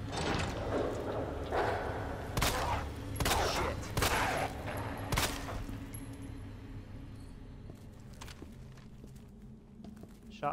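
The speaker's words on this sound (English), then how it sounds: "We'll use the pistol for the second one." Pistol shots from the Resident Evil video game on Xbox One ring out as four or five sharp, loud cracks spaced about a second apart, each with a short metallic tail, over a low game background.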